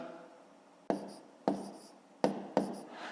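A pen writes numbers for a column multiplication, making four short, distinct scratching strokes spaced about a second apart in a quiet room.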